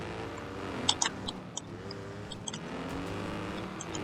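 A 2000s Dodge Grand Caravan in the Wreckfest 2 racing game drones with a raspy, faint engine tone rising and falling, scattered with small clicks and knocks from the race.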